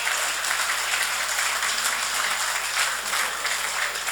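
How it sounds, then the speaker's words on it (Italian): A large audience at a Sardinian football awards gala applauds the Monastir team, a dense, continuous wash of clapping heard at a distance from start to finish. "Il Monastir, che ha fatto davvero un grandissimo percorso. Si meritano questo grande applauso."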